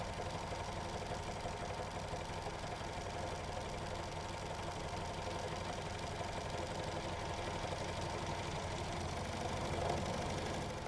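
A Janome 6234XL overlocker runs steadily while sewing a hem, a quiet, even mechanical whirr and rapid stitching rattle that continues without pause.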